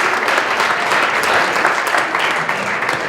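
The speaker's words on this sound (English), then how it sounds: "So let's have a round of applause for that." A large audience at a downtown community awards event claps steadily, a dense, loud wash of applause sustained throughout without speech over it.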